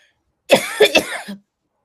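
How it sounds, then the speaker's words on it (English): A single burst of coughing, three quick harsh coughs close up, followed by silence. "the emotion is causing me to cough"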